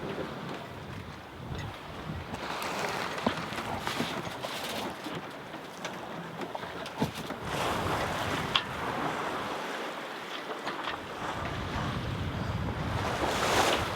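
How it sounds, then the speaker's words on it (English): Sea waves wash and surge continuously while wind buffets the microphone aboard a sailing boat, a broad steady roar with occasional gusts and splashes, no voices. "The waves are still here from yesterday"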